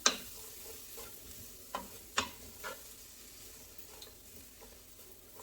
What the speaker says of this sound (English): I hope you can hear the simmering that's going on down in this pot